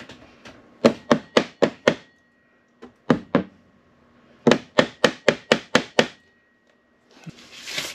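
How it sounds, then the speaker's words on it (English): A hammer taps sharply on a sailboat part in quick bursts of several strikes, with pauses between groups, close and distinct against quiet. "I'm gonna have to tap on that. Get the hammer."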